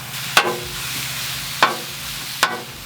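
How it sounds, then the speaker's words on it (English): Sausage frying in leftover bacon grease on a Blackstone griddle: a constant soft sizzle broken by three sharp metal spatula scrapes or taps, close and distinct. "Whilst our sausage is cooking"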